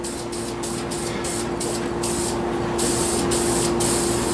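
Continuous hissing spray in a shop, loud and close, with a steady machine hum underneath and short breaks in the spray, no one speaking.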